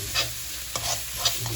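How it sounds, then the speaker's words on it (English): Mutton with ginger garlic paste fries in ghee, giving a steady low sizzle with a few soft stirring scrapes of a spoon in the pan, close and fairly quiet. "Wait for a minute while raw smell of ginger garlic paste goes away."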